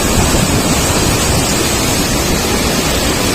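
Fast Jaya Mangli river water rushing past the Muddenahalli bridge, a loud, constant broadband roar filling the whole moment without pause, with some wind buffeting on the microphone.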